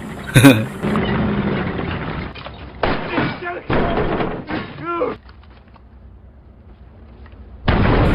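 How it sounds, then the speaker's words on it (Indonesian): A tank cannon fires wildly in a war comedy scene: a sharp, loud blast at the start followed by rumbling, clattering battle noise, with voices shouting over it. "Madong membalas tembakan Nambok dengan meriam tank tanpa hitungan resmi alias ngawur"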